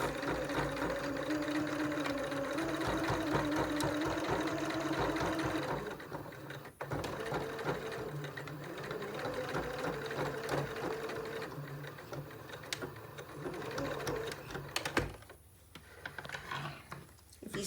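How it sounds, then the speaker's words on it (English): A sewing machine runs steadily while back stitching a fabric face mask, a loud, close mechanical whir that shifts speed around a brief stop and then halts again near the end, with no talking. "Back stitch a few to hold it in place."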